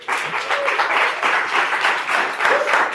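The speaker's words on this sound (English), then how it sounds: "Try again. Clap again." An audience claps and applauds continuously, a dense, fairly close patter of many hands that pulses slightly in waves without pause.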